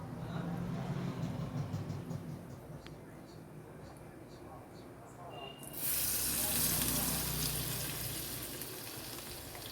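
Bread pakoda sizzles in hot oil, a dense steady crackle and hiss that swells louder midway as more batter goes in, close up, with people talking over it.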